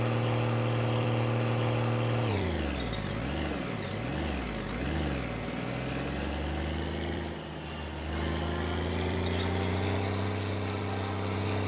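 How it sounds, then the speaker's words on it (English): Car engine in My Summer Car revved hard in neutral, a loud steady drone that swoops up and down in repeated rev cycles, then settles into a sustained high hum with a brief dip. "Pretty neutral, just rev the fuck out of it."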